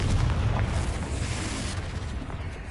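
Confringo explosive spell in the video game Hogwarts Legacy, a booming blast that opens loud and rumbles as it slowly decays, with no talk.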